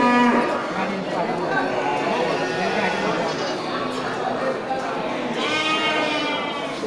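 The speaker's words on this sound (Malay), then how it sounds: "kita sorot dulu untuk kambing-kambing kecil ya." Goats bleat repeatedly over a noisy background of people talking, with several overlapping animal cries near and far, including small black and black-and-white goats at a livestock market.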